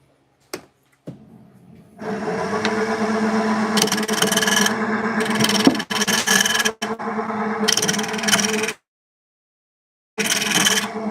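Carbide tool cutting a spinning wooden birdhouse on a lathe, a loud close raspy scraping in several bursts separated by short pauses and a long silent gap.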